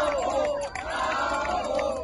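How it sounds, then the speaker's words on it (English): A crowd cheers and applauds outside the European Court of Human Rights after a landmark climate ruling, loud overlapping voices and shouts rising in a brief, dense burst. "An applause to celebrate a landmark victory."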